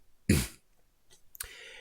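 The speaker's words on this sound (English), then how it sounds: "God, these coughs, dude." A single sharp cough close by, followed moments later by a shorter throat-clearing sound, in an otherwise quiet space.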